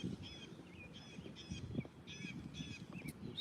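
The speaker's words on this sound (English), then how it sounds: "Geese back here hanging out." Geese honk repeatedly from a distance at the edge of a pond, faint and steady against continuous outdoor background noise.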